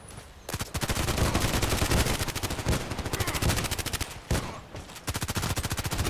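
Rapid automatic gunfire from a Contract Wars video game, long bursts of dense, loud shots with a short pause near the middle before firing resumes.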